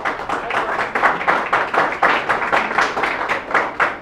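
A group of people claps loudly and continuously during a lesson, the claps running as a dense, steady patter with no talking over it.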